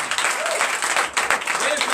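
A church congregation at a Sunday service in Comè, Benin claps steadily and fairly close throughout, with a voice speaking over the applause.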